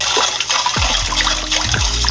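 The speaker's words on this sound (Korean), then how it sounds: "믹싱볼에다가 찬물을 부어주세요." Cold water poured into a mixing bowl, a loud, continuous close-up gush and splash with rising pitch as the bowl fills, heard with no one talking.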